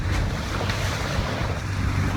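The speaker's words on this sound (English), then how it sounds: "There's going to be some huge waves right now." Ocean waves wash steadily around a small boat in a video game, a continuous rushing surf with wind noise that stays loud and even throughout, with no talking.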